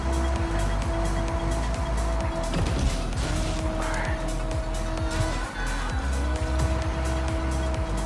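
Car in Fortnite driving fast with engine drone and repeated tire squeals from drifting, a steady close-up motor tone shifting pitch as it slides, no talking.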